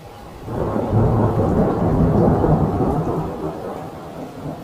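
A thunderstorm with heavy rain in an Odia cartoon: a deep, sustained rumble of thunder swells under steady rainfall, then fades slowly, with no voices.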